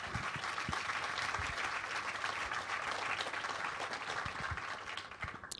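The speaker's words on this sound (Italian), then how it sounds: "È doveroso fargli un bis dell'applauso che avete già fatto in segno di affetto." A seated audience at a presentation gives a second round of applause as a tribute, a steady even wash of clapping that holds for several seconds before tapering off.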